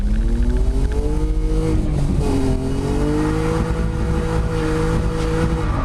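A BMW E36 Compact with a swapped-in M52 engine revs loudly up close, its exhaust droning and rising in pitch through sustained pulls with a brief dip between them.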